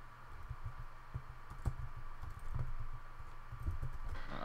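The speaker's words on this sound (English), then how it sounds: "he's typing" Computer keyboard typing in a gaming session, a steady run of close, quick key clicks over a low background hum.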